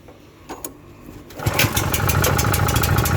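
A portable generator's small petrol engine cranks a couple of times, then fires and runs with the choke on, settling into a steady, rough, low-revving drone that stays loud and close.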